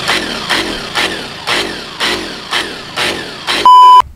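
A power tool used for refinishing aluminium wheels is revved by repeatedly bumping the trigger, producing about eight short, loud whirring bursts in a steady rhythm, ending in a high sustained whine.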